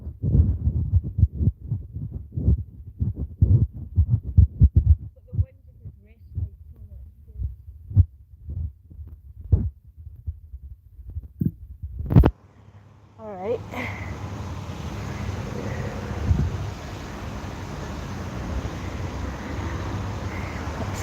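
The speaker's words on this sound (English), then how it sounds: "That wind, sorry guys." Strong, gusting wind buffets the microphone outdoors in Scotland, a roaring rumble that rises after a stretch of thumping handling and footstep noise and continues loudly to the end.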